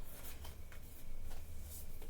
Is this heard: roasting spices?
no